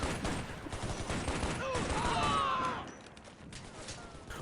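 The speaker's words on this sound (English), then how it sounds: "He shot at me. The AI shot at me." AI enemy soldiers fire automatic weapons during a Shadow Ops: Red Mercury firefight, a rapid, dense rattle of gunshots that keeps up throughout, with a brief whine of sound effects in the middle and the shooting easing off toward the end.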